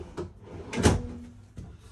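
Self-closing cabinet doors and drawers in the bathroom of a 2023 Forest River Sierra 391FLRB fifth-wheel RV shut with a few soft thuds and knocks, one louder clunk in the middle, close and without talk.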